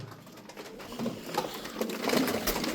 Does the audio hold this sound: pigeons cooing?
yes